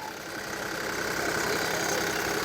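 An ISEKI TU175 mini tractor engine idles steadily, a smooth continuous mechanical drone with even rumble and a broad hiss, close and fairly loud, with no talk over it.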